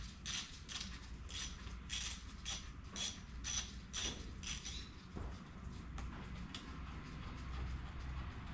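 A hand ratchet loosens the single 10 mm bolt holding the fuel tank on a Honda CRF50 fitted with an 88cc big bore kit, making rapid, close, rhythmic clicking in repeated bursts that slow and thin out toward the end.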